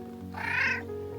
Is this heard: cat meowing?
yes